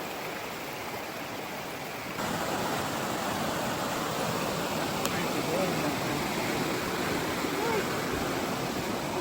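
River water rushes past beside a creek, a steady, dense broadband roar that grows slightly louder after a couple of seconds, with faint voices briefly audible beneath it.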